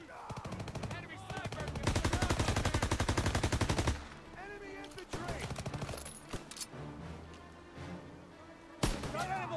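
Bursts of rapid gunfire from Call of Duty WWII, with a dense sustained volley in the first seconds followed by sporadic shots and impacts, loud and close, mixed with game voices and effects.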